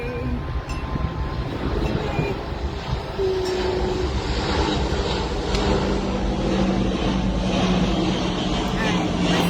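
An airplane passing overhead, heard as a steady, broad roar that fills the whole stretch at even loudness with no clear rise or fall.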